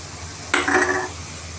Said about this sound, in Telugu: సొరకాయ ముక్కలు వేసేసుకుందాం